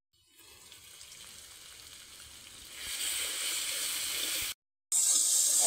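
Tomato with turmeric, chilli powder and Kashmiri chilli powder sizzles in hot oil in a pan, quiet at first, then a louder steady frying hiss that cuts out briefly and returns.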